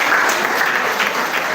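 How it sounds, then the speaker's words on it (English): Audience at a classroom pitching session applauds steadily, dense continuous clapping filling the whole moment at close range with no talk over it. "Please, a round of applause for her."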